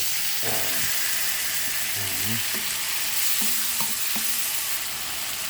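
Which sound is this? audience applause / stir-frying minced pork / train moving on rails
stir-frying minced pork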